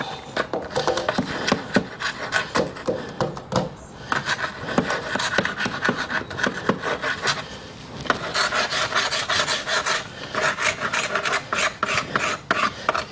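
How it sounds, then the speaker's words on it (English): A wing scraper rasps the damaged, lifted paint off a wooden window, making a steady series of quick, close scraping strokes that stay fairly loud, with a short pause midway before the rhythmic scraping resumes. "And it scrapes off the damaged part of the window, of the wood."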